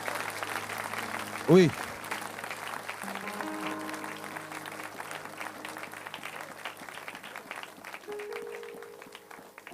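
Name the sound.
congregation applauding, clapping hands for the Lord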